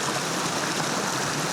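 A swollen creek running high after rain rushes steadily with dense, continuous broadband water noise, close and even throughout, with no voices.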